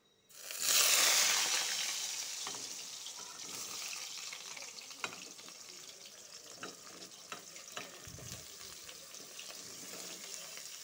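Salted, chopped pointed gourd is tipped into a hot pan, setting off a loud burst of sizzling that settles into a steady, close frying hiss with a few light scrapes and clicks.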